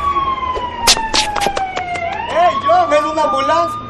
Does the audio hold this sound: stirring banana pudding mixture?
no